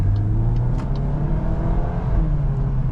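A 2025 Volkswagen Golf R in comfort mode accelerating from inside the cabin, its engine droning steadily with rising pitch under road noise, no talking.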